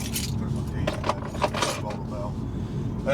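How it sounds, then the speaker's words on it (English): A bunch of keys jangling and clinking as they are put down, several short metallic rattles close by, with speech in the background. "So I'll just put my keys in there"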